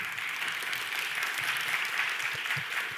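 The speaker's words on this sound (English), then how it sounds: "Round of applause for Daniel." A steady burst of applause from a crowd, continuous clapping at moderate distance with no talking.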